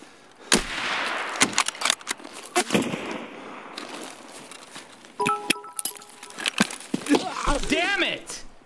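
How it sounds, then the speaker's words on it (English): Sniper rifle shots crack out one by one in Escape from Tarkov, several sharp reports spaced across the scene, with voices and other game noise in between. "I was being sniped by someone and the sniper scav."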